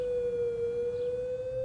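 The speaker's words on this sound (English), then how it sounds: "A warning siren would then be sounded. It consists of a modulated sound, in other words, rising and falling," Public warning siren sounding a steady, loud, sustained wailing tone, close and continuous throughout, with no voices over it.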